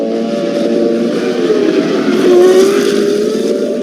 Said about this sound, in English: a 360-degree spin is not the way to restrain DC